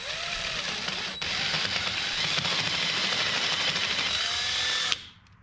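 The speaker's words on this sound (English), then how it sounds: "Y'all like that drill press? As this thing drills, I just press." A drill press grinds steadily into metal with cutting fluid for several seconds, a loud continuous whine that cuts off abruptly near the end.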